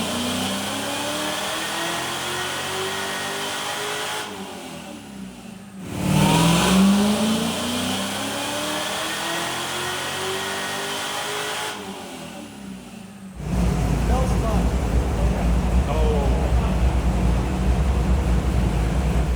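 A supercharged 1968 Camaro engine revs on a dyno in third gear, loud sustained pulls rising in pitch, a brief drop, then another climb ending in a heavy steady roar.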